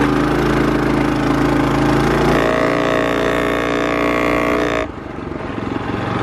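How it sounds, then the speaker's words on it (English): A TrailMaster MB200 mini bike engine running with a rattle: a loud, close, buzzing drone holds steady for several seconds, then abruptly drops to a lower, rougher rumble near the end. "Here's the rattle."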